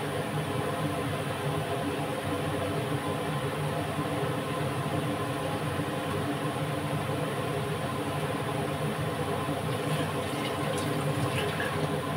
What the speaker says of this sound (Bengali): এর মধ্যে একটু জল দিয়েছি